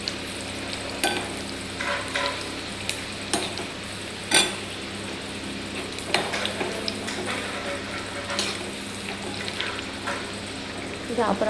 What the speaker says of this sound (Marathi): तयार पाटवडी आपण तळून घेऊया